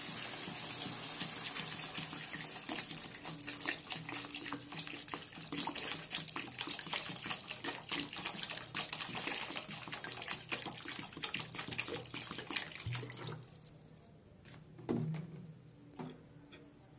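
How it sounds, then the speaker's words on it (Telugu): Water pours steadily into an upma pan, a continuous close gushing splash that runs for about thirteen seconds before stopping, followed by a few faint knocks and stirring sounds. "ఇప్పుడు వాటర్ వేసుకుందామండి"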